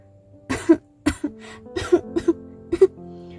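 Several harsh coughs in quick bursts, close and loud, with brief pauses between them.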